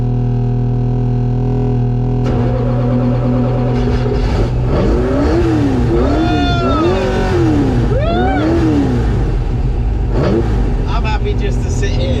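Idling engine drone from a 1966 Ford GT40 Mk1, then a sharp change as it catches and revs in repeated rising and falling blips, loud and close, with the tone climbing on each throttle push.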